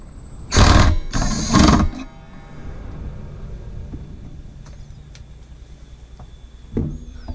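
Two small screws are driven back into an Aprilaire HVAC zone damper, with two loud back-to-back bursts of turning and grinding near the start, followed by quiet room tone and a few faint clicks.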